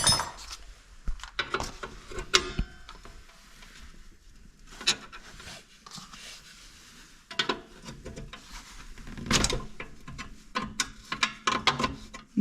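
A brake component on a BMW Z3 being loosened, with irregular metallic clicks, ratcheting and clinks of tools scattered across the stretch, some louder bursts between quieter gaps, no speech.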